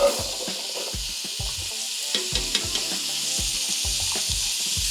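Squash frying in melted butter in a pan for a chowder, a constant bright sizzle with rhythmic scraping and stirring knocks heard close up, no voices.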